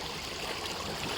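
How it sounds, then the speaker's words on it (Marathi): Steady, even rush of a stream's gurgling water at early morning, continuous and fairly soft with no voices. "पाण्याचा खलखल आवाज भारी वाटतो भारी"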